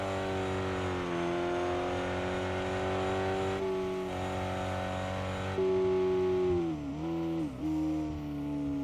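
A car engine in the RevHead racing game drones with a steady harmonic whine that holds its pitch, then dips and surges as the throttle is eased off and reapplied, with no talking.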